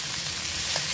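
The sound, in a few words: squid stir-frying sizzling in pan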